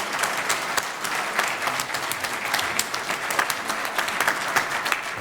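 An audience applauds a choir at a concert and theatre evening, a dense, steady clapping that carries on unbroken with no voices standing out.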